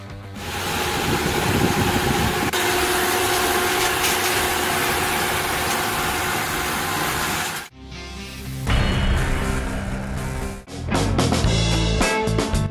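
An SPRH1-38H greens harvesting machine running in the field, a loud steady mechanical drone that cuts off briefly, then resumes with a shifting, rattling engine tone.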